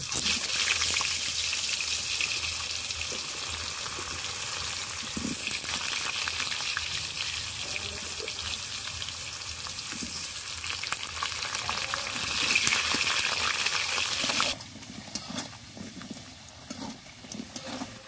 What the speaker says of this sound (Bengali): তেল গরম হয়ে গেছে, আলুগুলো দিয়ে দেব।